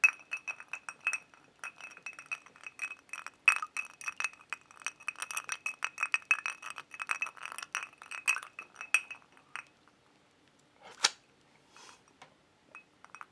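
Rapid, continuous clinking of a finger stirring bourbon in a glass for about nine seconds, close and fairly loud, then a few scattered taps.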